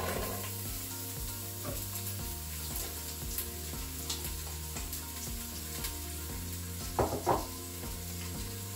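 Onions sizzle in hot oil in a Crockpot as a steady, moderate frying hiss under a constant low electrical hum, with a brief clatter near the end.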